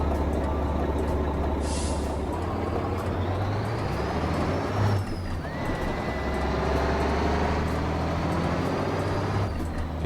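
A KrAZ 255 truck engine in the video game Euro Truck Simulator 2, a steady low diesel drone with rising and falling gear whine and a brief hiss of air, running continuously with no talk.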